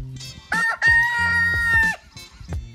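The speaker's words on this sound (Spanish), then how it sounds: "el gallo siempre se retiraba triunfante, cantando" A rooster gives one loud, close crow, long and drawn out, with shorter clucking calls before and after it.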